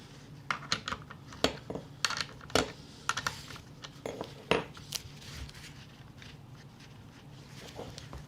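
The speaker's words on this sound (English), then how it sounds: "first loosen the stud nut, followed by loosening the chain tensioner" A wrench working the stud nut and chain tensioner on a chainsaw during a chain replacement gives light metallic clicks and taps in an irregular run, close by and fairly quiet over low background hiss.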